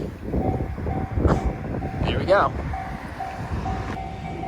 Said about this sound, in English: Narita Express. Oh, just one train.